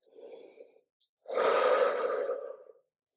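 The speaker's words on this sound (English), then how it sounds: "Breathing in through the nose" Slow breathing during a cool-down stretch in child's pose at the end of a Pilates slider workout: a soft inhale, a brief pause, then a longer, louder exhale, close and with no talking.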